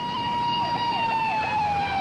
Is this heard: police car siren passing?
yes